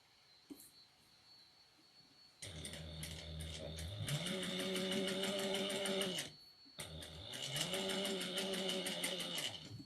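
A sewing machine stitches a triangular shoulder bag, running in two long steady bursts of rapid, even needle clatter with a brief pause between them, close and loud against a quiet room.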